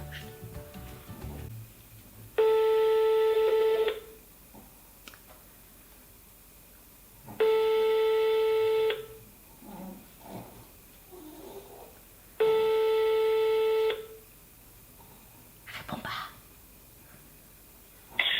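Phone call on speakerphone, three long steady ringback tones about five seconds apart, loud and clear, with faint room noise and brief clicks between rings.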